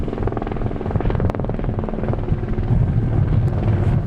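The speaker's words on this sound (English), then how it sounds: "The Westpac chopper will be patrolling beaches throughout the school holidays" The Westpac rescue helicopter patrols the beaches during the school holidays, its rotor chopping loudly and steadily nearby throughout, with a rumbling engine drone beneath.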